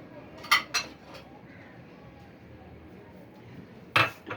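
Knife and cutlery clink against plates while chocolate cake is cut, with a few sharp clinks near the start and another pair near the end over quiet room noise.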